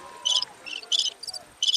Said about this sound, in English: or the crickets.